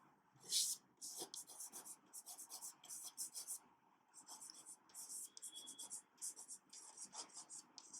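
Pen scratching rapidly across paper while notes are written during a biology lecture, quiet bursts of rubbing strokes in an uneven rhythm, close and faint, with soft speech underneath.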